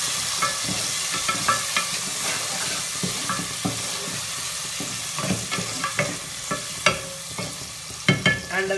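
Sabudana khichdi mixture with potatoes, tomatoes, salt and red chili powder being stirred in a pan, with a steady sizzle of frying and repeated scraping strokes that grow sharper toward the end, no voices.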